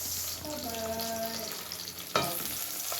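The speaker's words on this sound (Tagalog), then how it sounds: "magisa na ako ng bawang. Tapos, lagyan natin ng sibuyas." Garlic and onion sauté in a pan for gisadong monggo with pork, giving a steady close sizzle with stirring scrapes and a sharp clatter near the end.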